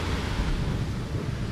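Sea waves wash steadily onto the beach at Kuala Muda, heard as a continuous broadband surf roar mixed with wind buffeting the microphone, with no voices.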